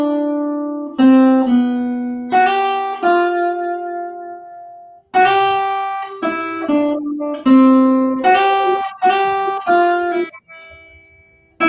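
A single guitar plays a bright, plucked melody over a four-chord progression, with distinct notes, some held and ringing, others quick, in phrases broken by short pauses, close and clear with no voice.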